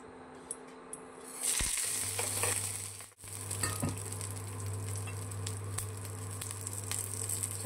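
Green chilies, mustard seeds and curry leaves hit hot oil for sambar, bursting into a loud close sizzle with scattered pops and crackles, a low hum underneath, and a few light clinks before it starts.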